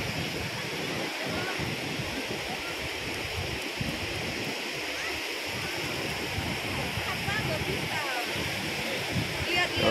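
Surf washes continuously onto Kuta Beach in Bali on an overcast morning with a steady broadband roar, heard close up without a break.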